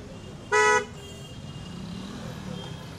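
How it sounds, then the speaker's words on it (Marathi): A single short car horn toot sounds close by at a crowded temple on a busy new-moon day, rising clearly above a steady wash of road traffic and idling vehicles around a full parking area. "खूप सारे वाहन गाड्या ये जा करत आहे"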